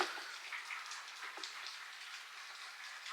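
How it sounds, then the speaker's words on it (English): Steady rain falls outside, a soft continuous hiss with faint scattered drops at moderate distance, heard alone with no voices. "it's raining outside"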